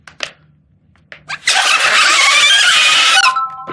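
Blowing hard across loose book pages makes a loud, shrill paper shriek lasting nearly two seconds, after a few soft puffs and taps, ending with a brief pure tone.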